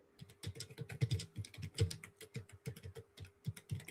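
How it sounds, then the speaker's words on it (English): Rapid typing on a computer keyboard, a dense run of close, fast key clicks in uneven bursts continuing for several seconds with a faint steady hum underneath. "Sorry, I'm mid typing."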